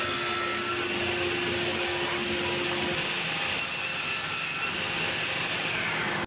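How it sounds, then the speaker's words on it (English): A table saw cuts a rabbet in wood, a steady, dense whirring grind of the blade through the board that holds loud and unbroken, then stops abruptly at the end. "I'll adjust my fence and blade height to match the height and width of this area and cut the rabbet"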